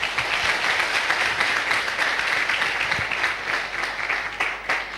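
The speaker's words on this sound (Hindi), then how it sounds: "एक बार आप लोग अपने लिए तालियां बजा लें।" Audience applause at a Safe Shop leaders' gathering, a steady dense wash of many hands clapping at moderate level throughout, with no talk over it.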